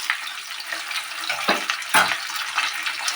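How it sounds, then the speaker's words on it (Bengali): Katla fish pieces sizzle and crackle as they fry in hot oil in a pan, a close continuous hiss with a few sharper spatters and turning sounds. "মাছগুলোকে মোটামুটি রেড করে ভাজতে হবে, একটু কড়া করে ভাজতে হবে।"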